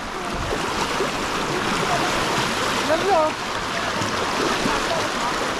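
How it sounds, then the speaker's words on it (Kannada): A strong, fast-flowing stream rushes over moss-covered rocks in a steady, loud wash of water, with a faint voice briefly surfacing partway through. "ನೀರು ಒಳ್ಳೆ ಫೋರ್ಸ್ ಇದೆ"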